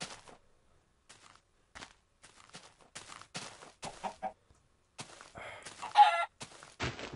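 Chicken sounds from the video game Minecraft come in scattered short bursts of clucking and squawking between silent gaps, with a louder flurry near the end, fairly close and without any talk.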